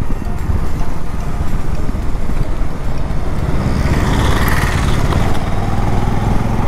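A BS6 Bajaj Avenger 220 cruiser motorcycle engine drones steadily while riding, a low continuous rumble mixed with heavy wind buffeting on the microphone, loud and close throughout with no speech.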